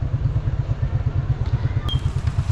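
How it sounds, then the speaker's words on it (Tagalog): A motorized tricycle engine pulls uphill with a steady, pulsing low rumble, fairly close and loud, with no voices over it. "Pasok pa yung tricycle. Marunong. Malakas yung tricycle guys."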